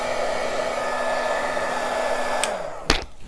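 A heat embossing tool blows steadily with a constant whirring hum as it melts metallic embossing powder on a craft piece, then winds down and switches off with a click near the end.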